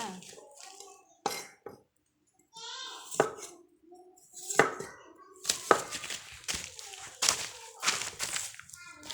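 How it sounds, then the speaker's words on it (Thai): Fresh turmeric is sliced into thin pieces with a knife, giving sharp, irregular chopping knocks against a board while someone talks between and over the cuts. "เราจะหั่นเป็นชิ้นบางๆแบบนี้นะคะเนาะ เดี๋ยวเราจะค่อยๆหั่นนะคะเป็นชิ้นบางๆนะคะ"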